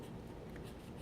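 A paintbrush blends watercolour paint onto paper, making a continuous soft, close brushing and scratching with no pauses.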